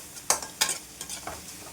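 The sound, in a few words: onion sautéing in oil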